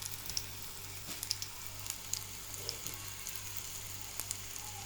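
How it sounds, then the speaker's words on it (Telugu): Pakoda batter sizzles and crackles in hot oil, a steady close frying hiss with scattered small pops and spits. "అదిగో చర్రని అట్ట వస్తుందో."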